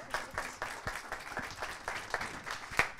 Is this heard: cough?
no